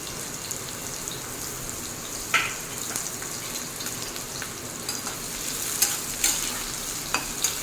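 Pointed gourd (potol) pieces, cut on a boti, fry in plenty of hot mustard oil with a steady crackling sizzle, broken by a few sharp clinks and scrapes of stirring; no voices.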